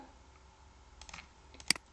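A few quiet keyboard clicks, then one sharper, louder keystroke, all close by in an otherwise quiet room.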